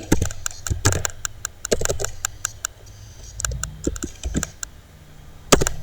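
Rapid key clicks on a computer keyboard as a website address is typed into a browser's address bar, irregular bursts of close, crisp taps with brief pauses and no talking.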